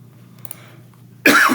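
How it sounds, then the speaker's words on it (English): One person's cough bursts out sharply and close at the end of a quiet stretch, preceded by faint background sounds. "Sorry about the coughing."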